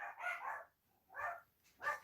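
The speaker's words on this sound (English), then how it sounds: "the dogs will start barking" Dogs barking indoors at home: three short bursts of barking, the first longer, then two separate single barks, at moderate distance and heard alone.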